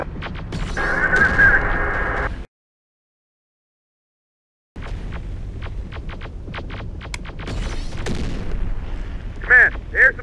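Enemy gunfire in the Terminator Dark Fate Defiance video game on a Fort Worth, Texas mission: a run of sharp shots and bursts follows a sustained blast and a brief dead-silent gap, with game voices and effects mixed in.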